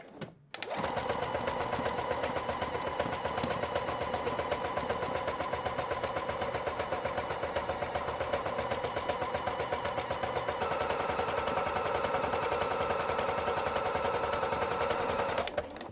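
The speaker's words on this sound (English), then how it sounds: "Now we'll be sewing. I'm using the zigzag stitch." A sewing machine running a zigzag stitch along knit fabric and elastic for a circular skirt, a fast, even mechanical rattle that starts abruptly and continues loud and unbroken, close up and with no voices.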